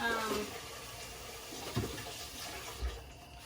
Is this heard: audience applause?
no